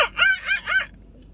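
Three quick rising-and-falling bird calls, like chicken or rooster cries, from a flock of birds outdoors, fairly clear and close, then fading to quiet.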